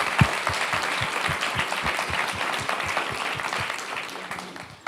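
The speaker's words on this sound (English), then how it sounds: "So we want to give her a round of applause." A room of attendees at a school board meeting claps in sustained applause, a dense, even patter of many hands lasting several seconds before tapering off slightly at the end.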